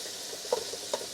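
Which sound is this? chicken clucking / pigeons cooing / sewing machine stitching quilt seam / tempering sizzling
tempering sizzling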